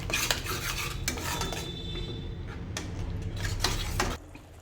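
A soybean and tomato pulao mixture with curd being sautéed in a pan, with repeated metal spatula scrapes and clinks over a soft sizzle that stops abruptly near the end.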